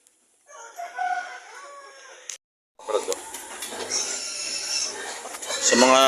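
Chickens and roosters crow and cluck close by in a backyard flock, one long crow followed after a brief gap by overlapping calls and clucking that grow louder toward the end.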